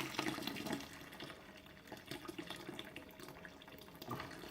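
Wort circulates through the pump of a Brewzilla 65L all-in-one brewing system, giving a soft, continuous trickling and splashing of liquid that stays faint and steady throughout.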